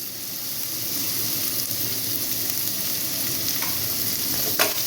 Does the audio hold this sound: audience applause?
no